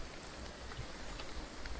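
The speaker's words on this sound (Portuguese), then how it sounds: "Essa chuva me irrita." Rain in the Graveyard Keeper video game, a faint, steady hiss of falling drops with a few soft patters and no voices.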